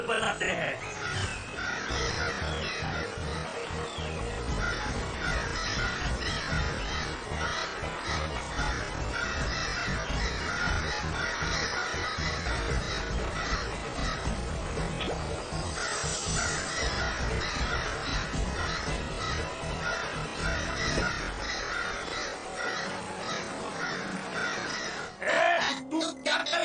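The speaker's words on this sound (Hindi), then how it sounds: "अरे ये काले कौवे अब हमारे पीछे पड़े हैं।" Crows caw repeatedly in a Hindi animated cartoon, harsh calls layered over busy background music while cartoon characters talk.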